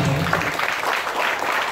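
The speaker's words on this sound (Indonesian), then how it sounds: "Tepuk tangan untuk Pak Antoni" An audience claps for Pak Antoni at a military gathering, a short, even burst of applause under a fairly loud room tone, with no voices.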